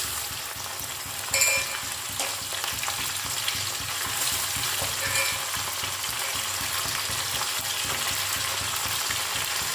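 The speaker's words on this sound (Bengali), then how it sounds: "তো এবার আমি এই মাংসটা এর মধ্যে দিয়ে দিচ্ছি।" Steady, loud sizzling of chicken frying in a hot pan with fried onions, with occasional clatter and stirring sounds over the constant crackle.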